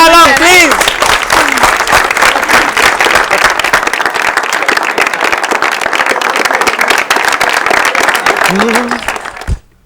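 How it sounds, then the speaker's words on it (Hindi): A studio audience bursts into loud, sustained applause with cheering, filling nearly ten seconds before cutting off abruptly; a voice rises briefly at the start and end. "तालियां"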